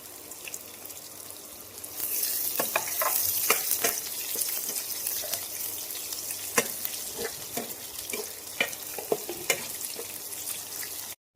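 Onions fry in a pan for Karnataka-style vangi bath, a steady close sizzle broken by scattered scraping taps of a spoon stirring them.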